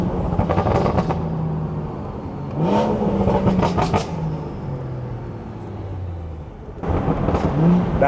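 A BMW 340i with the B58 engine revs hard from the driver's seat, its intake and exhaust note climbing through gears in loud bursts, with a steady cabin drone during the quieter stretches.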